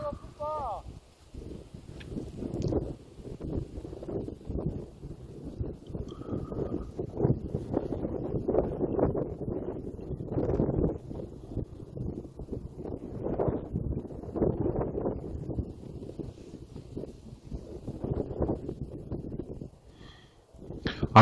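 Strong wind buffets a paraglider in flight, a continuous low rumbling roar pressing on the microphone with gusty swells throughout.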